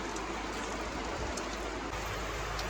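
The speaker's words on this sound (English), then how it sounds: "The rain has started." Rain falling steadily outdoors, a continuous dense hiss of drops that stays even and fairly soft throughout, with no voices.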